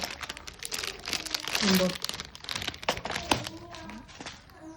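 Gift packaging around a bracelet crinkles and rustles as it is unboxed, in close, uneven bursts under people talking.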